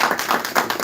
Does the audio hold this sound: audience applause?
yes